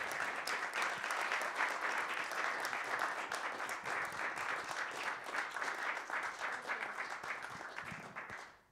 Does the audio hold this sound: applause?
yes